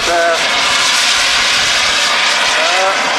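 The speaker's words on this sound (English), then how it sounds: "While Dave is flying the Vulcan" A large-scale model Avro Vulcan jet flies at an airshow, giving a loud, steady broadband jet roar that holds throughout, with faint speech-like tonal traces at the start and end.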